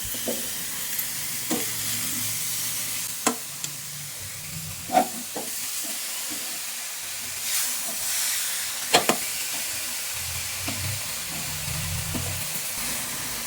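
Carrot halwa with sugar is stirred in a pan, giving a soft continuous sizzle and hiss with scattered scraping and knocking of the spoon, no voices.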